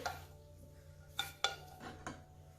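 Rice scooped from a pot of Puerto Rican style white rice, heard as a few sharp spoon-on-pot clanks and scrapes spaced across a quiet kitchen, with soft background hum and no talking.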